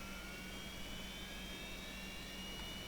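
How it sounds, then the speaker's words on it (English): Jet engine of a Fokker 70 spooling up during startup in Microsoft Flight Simulator X, a steady, faint whining hum with high tonal lines over a low rumble, continuous and alone. "Starting engine number 1."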